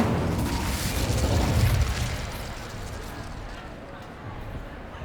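A fiery Incendio spell goes off in Hogwarts Legacy, a deep rumbling whoosh that swells loud in the first two seconds and then settles into a steady low roar.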